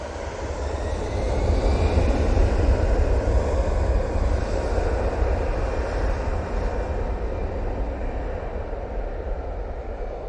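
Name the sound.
propeller airliner at Manchester Airport, bound for Belfast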